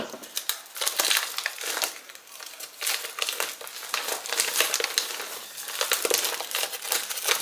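Plastic wrapping is peeled off a queen-size cooling shredded memory foam pillow, giving a continuous close crinkling and crumpling with uneven bursts and no talking.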